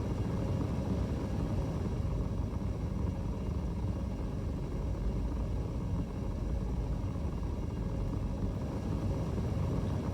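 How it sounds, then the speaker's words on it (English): A Hornet spaceship in quantum travel in Star Citizen gives off a loud, steady low rumble with a dense roaring texture that holds unbroken from start to finish. "Is it me, or is my Hornet unusually loud in Quantum today?"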